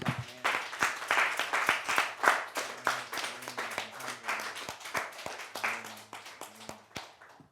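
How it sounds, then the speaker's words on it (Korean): A church congregation claps steadily together during a Sunday service marking the church's second anniversary, a dense, sustained round of applause with no talking over it. "우리 박수 영광 드립니다"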